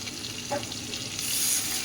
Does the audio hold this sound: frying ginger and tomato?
yes